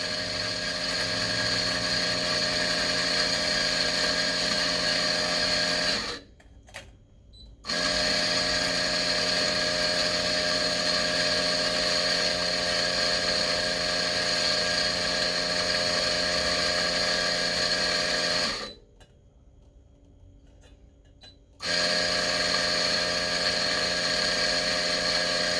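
A large commercial coffee grinder with a custom copper hopper grinding a full batch of beans, a loud steady motor whine and grinding roar that cuts out twice briefly before resuming.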